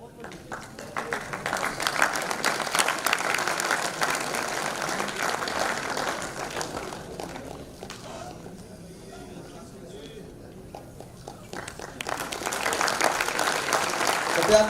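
Audience applause for agricultural award winners at a conference ceremony, steady broadband clapping that dips midway then swells again, with voices and announcements over it.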